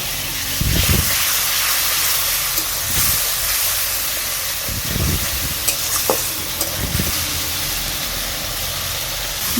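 Spice paste for a boal fish curry sizzles loudly and steadily in a pan after water is added, with regular scraping stir strokes repeating every second or two and no voices.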